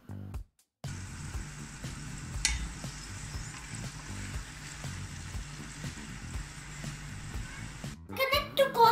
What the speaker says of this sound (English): I'll ask an adult to fry some French fries.